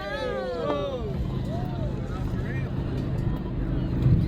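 Motorboat passing on the Yahara River, a steady engine drone under loud chatter and talk from people aboard a pontoon boat, with the motor hum continuing throughout.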